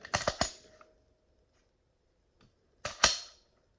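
A Gen 1 Glock magazine going into a Glock 19X pistol: a quick cluster of sharp metallic clicks, then quiet, followed by one more pair of close, crisp snaps, with no talk.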